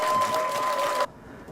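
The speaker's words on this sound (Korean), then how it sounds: "격려의 박수 부탁드리겠습니다" An audience at an election campaign rally for a Democratic Party candidate applauds in a dense, even wash of clapping that cuts off abruptly, leaving quiet.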